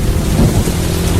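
Heavy rain pouring down with a low rumble of thunder, a loud, dense and continuous roar close around the listener, with no voices.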